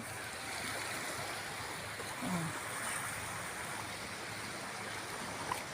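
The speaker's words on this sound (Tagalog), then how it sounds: "So, yan yung dagat." Steady wash of sea waves breaking along a rocky shore, a continuous broadband roar close by with a brief voice exclamation.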